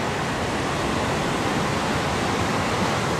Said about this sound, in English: listen to the sound of the ocean and the weed eater